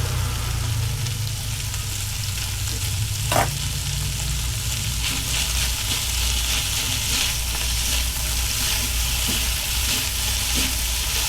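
Onions and green chili stir-fried with lechon sisig in a hot pan, a loud, unbroken close sizzle with scraping stirring throughout and one sharp knock.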